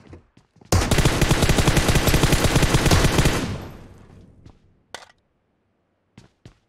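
Sustained automatic gunfire in PUBG Mobile, a loud, dense burst lasting about two and a half seconds that tails off into a few isolated sharp shots.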